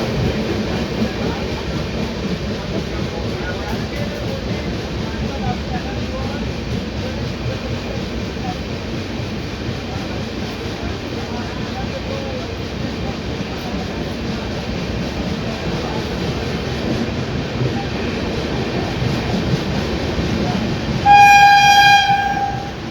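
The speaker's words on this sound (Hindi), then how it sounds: "बैंकर लोकोमोटिव जाते हुए करजत की तरफ।" A banker locomotive heading toward Karjat on the Khandala ghat between Mumbai and Pune makes a steady, loud rumble of rolling wheels and wagons with faint rail clatter. A sharp horn blast sounds near the end.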